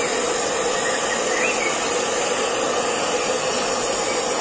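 A hair dryer blows steadily on paint to make it crackle, a continuous close whooshing hiss with a faint high whine, running alone without pause.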